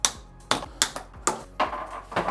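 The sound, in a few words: snipping zip ties off e-bike packaging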